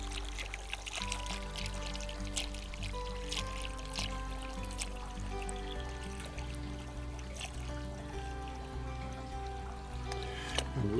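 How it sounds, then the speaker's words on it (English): Water is poured into a bowl of cycad seeds, a faint, low trickle and splash against a hum of background noise, with a few soft knocks and clinks. "First we need to add some water to the seeds"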